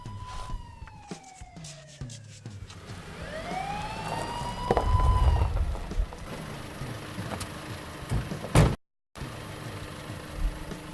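A wailing siren rises and falls in sweeping tones at moderate distance, mixed with background rumble and brief noises, then cuts off abruptly near the end.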